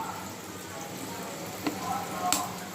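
Cooking oil heating in a hot pan, before chicken goes in, gives a soft, continuous crackling sizzle. Two sharper pops stand out near the end, and the sound stays fairly quiet and even.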